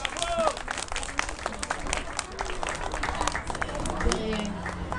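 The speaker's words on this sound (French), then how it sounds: "je veux des applaudissements s'il vous plaît" Clapping and crowd noise rise at an outdoor community picnic during the speeches, scattered applause mixed with voices and background chatter.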